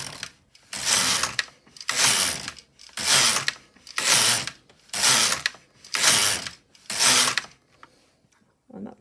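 An LK150 knitting machine carriage is pushed back and forth across rows, seven evenly spaced rattling, ratcheting passes about a second apart with brief quiet gaps between them.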